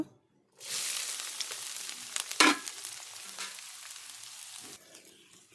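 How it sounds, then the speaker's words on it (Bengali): Onions fry in the oil left from dried red chillies in a pan, a steady close sizzle that starts after a brief silence and swells with a sharper crackling burst midway, with no talk. "ওই তেলে আমি পেঁয়াজগুলো ভেজে নেব।"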